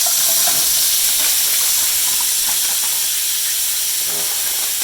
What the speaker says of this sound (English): There's my vegetables that are cooking now.